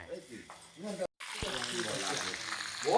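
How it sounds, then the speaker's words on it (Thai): Cicadas deep-frying in hot oil, a steady broadband sizzle running throughout, close and moderately loud, with a voice talking over the first second and a brief drop-out partway. "ตอนนี้ก็ทีมงานกำลังทอดนะครับเนาะ เมนูสุดยอดก็คือทอดจักรจันนะครับเนาะ"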